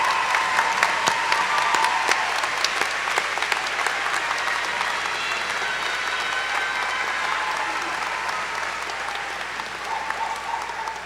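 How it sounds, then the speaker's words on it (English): Graduates at a fall commencement ceremony give a long, sustained round of applause for faculty and staff, a dense roar of clapping from a large crowd filling the hall throughout. "would you stand again and offer a round of applause to the faculty and staff who have instructed, guided, and supported you through this journey"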